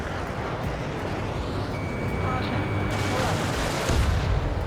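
A radar vehicle explodes in the combat flight game Ace Combat 7 against a loud, constant roar of jet engine and battle noise. Voices are heard over the din.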